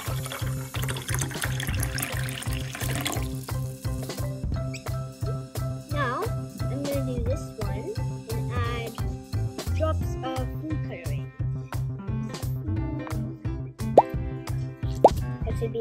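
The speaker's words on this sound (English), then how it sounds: "I'm just going to pour in the oil" Oil and water poured into a glass for an oil, water and food colouring experiment, giving repeated close plops and trickling splashes with a brief rushing pour at the start.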